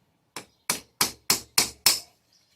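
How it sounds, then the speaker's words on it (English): A hammer strikes an old pair of cutters clamped on a cotter pin during wheel bearing and brake work on a Kawasaki Brute Force ATV, giving six sharp metallic knocks at a steady pace, close up and alone. "Hit it with a hammer, comes out."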